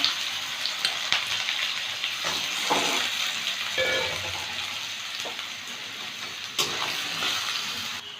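Potatoes frying in hot oil with dried red chillies and nigella seeds, a steady broadband sizzle running throughout with occasional louder crackles and pops near the pan.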